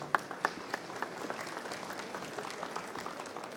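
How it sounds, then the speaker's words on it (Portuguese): Audience applause welcoming a speaker to the arena stage at a business expo, a few sharp claps leading into steady, moderately loud clapping from a crowd, with no voices over it. "Vamos aplaudir Sandra Chemin aqui para a nossa arena, agora"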